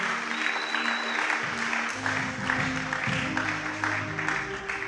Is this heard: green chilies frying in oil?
no